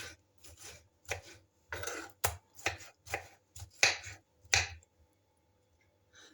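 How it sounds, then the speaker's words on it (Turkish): Rhythmic knife chopping of tomatoes on a board, about nine or ten crisp strikes in a steady, unhurried pattern, close and clear with no talking. "Bakın şu şekil doğruyorum."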